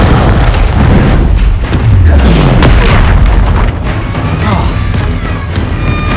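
A Confringo explosive spell goes off in Hogwarts Legacy, a fantasy combat game. Loud booming blasts and crashes follow one another in a dense, continuous barrage with brief impacts scattered throughout.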